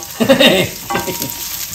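Onions hit a hot pan over medium heat with fresh garlic, sizzling loudly up close while a utensil scrapes and stirs in a couple of short bursts.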